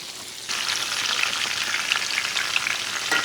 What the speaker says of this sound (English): I'm putting the rosemary that I had in the bag now on the hot heat, hot grease.